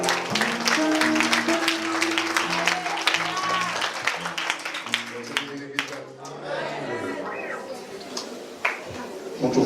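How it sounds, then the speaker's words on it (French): Applause at a French-language church worship service, a congregation clapping and cheering under a preacher's voice for several seconds before the clapping thins out into scattered claps. "On nous applaudit, bon Dieu."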